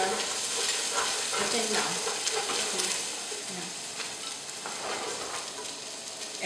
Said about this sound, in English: sauteing the garlic and the onions